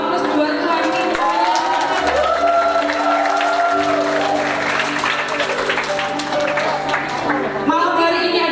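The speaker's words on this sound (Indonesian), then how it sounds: "Sekali lagi berikan aplaus buat Tuhan kita" Audience at an Easter church musical drama giving sustained applause that stays loud and steady for several seconds, while voices and musical tones carry over the clapping.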